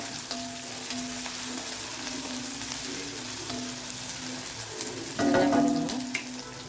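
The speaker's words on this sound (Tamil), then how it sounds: "இந்த வெங்காயம் வரமிளகா நல்லா வதங்கிருச்சு" Onions and dried red chillies sauté in a pan, a steady close sizzle running throughout, with a louder burst of stirring or scraping near the end.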